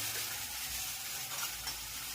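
Spice tempering sizzles in hot oil for a corn and fenugreek curry, a steady close hiss that runs unbroken for about two seconds with no talking.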